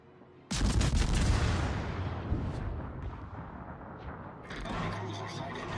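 High-explosive shell salvo fired from a warship in World of Warships: a sudden loud cannon blast that rumbles and fades over several seconds, followed by a second burst of firing noise near the end.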